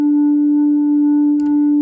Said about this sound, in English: what it does to just even something as simple as a sine wave